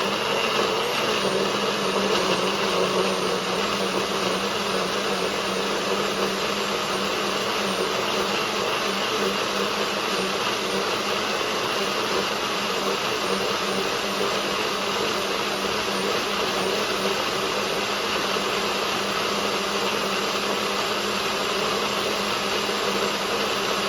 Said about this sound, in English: I will stop the blender and do that and then reattach it and start it again.